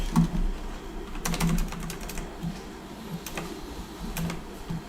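Fingers tap out irregular bursts of crisp clicks on a clickety-clack computer keyboard, close and fairly clear over a low background hum, with short pauses between runs of keystrokes.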